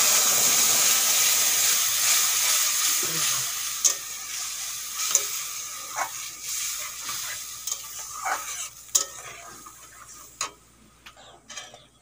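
Spice masala for chicken curry fries in oil with a loud hiss that gradually dies away, broken by scattered stirring clicks and scrapes near at hand.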